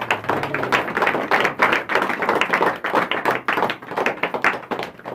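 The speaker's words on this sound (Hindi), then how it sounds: "जोरदार ताली।" Loud, dense applause from a church congregation, steady rapid clapping that carries on without a break and stands alone with no talk over it.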